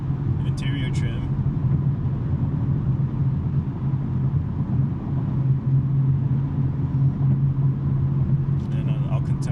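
A BMW M3 with a six-speed manual gearbox drives along a road, its exhaust a steady, continuous rumble from inside the car, with a voice talking over it throughout.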